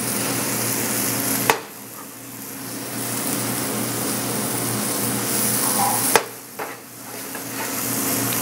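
Scallions drop into a pan of tomatoes already frying and releasing juice, giving a steady broadband sizzle that surges loudly at two moments with brief clatter of stirring, no voices.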